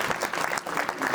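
Steady applause from a gathered crowd at a memorial opening ceremony, many hands clapping close by in a continuous, even burst.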